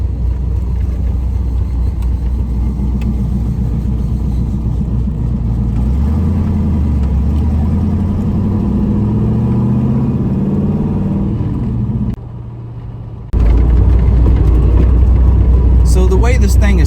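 An LS-swapped car with a Varex valved muffler idles and then revs, its exhaust rumbling deep and loud with rising and falling pitch sweeps, briefly dropping away before returning louder near the end.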